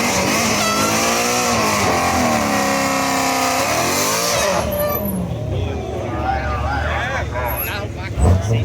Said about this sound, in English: Why you got people in the back trying to do a burnout?